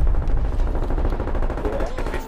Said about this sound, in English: I'm gonna shoot right there.